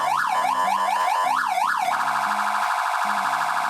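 Police siren controller feeding a loud siren speaker, cycling through rapid yelp sweeps and a rising wail before switching to a steady alternating high-low two-tone, loud and close with no talking.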